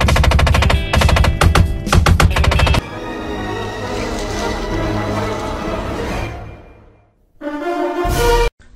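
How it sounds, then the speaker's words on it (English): Failing car window actuators rattle rapidly and loudly in harsh bursts like machine-gun fire, with a busier stretch of clatter in between. "window actuators are going out, so it sounds like I'm having a hell of a firefight in here"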